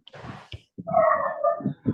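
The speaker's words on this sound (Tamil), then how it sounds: "நாய் கத்துற மாதிரி சத்தம் கேக்குது." A dog gives a brief, wavering whine or howl that rises and holds for about a second among other short yelps. It sounds fairly close and loud.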